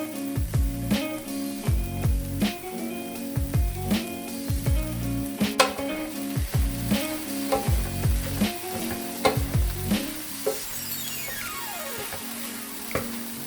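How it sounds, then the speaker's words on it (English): Bitter melon sautéing in a pan for goya chanpuru, a constant sizzle punctuated by rhythmic scraping and stirring strokes, close and fairly loud, no talk. "going to let this saute dry for a few minutes"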